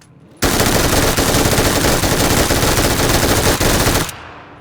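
Automatic gunfire from PUBG, fired from a crouch: one dense, loud, unbroken burst of rapid shots lasts nearly four seconds, then cuts off sharply into a short fading tail.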